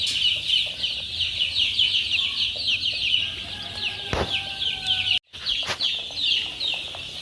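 Twelve-day-old free-range village chicken chicks peep in a dense, continuous high chorus, many birds close by, with a brief break near the end.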